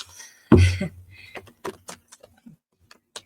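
After a loud thump, tarot cards are shuffled nearby in a run of soft, irregular flicks and slaps that thin out toward the end.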